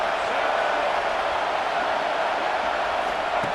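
A stadium crowd in the College Football 26 video game, Georgia versus Alabama, roars as one steady, dense wash of noise, with no single voice standing out.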